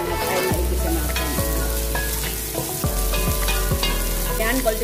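Garlic and ginger sizzle steadily in hot cooking oil, a loud continuous frying crackle close by, with a few stirring scrapes breaking through at intervals.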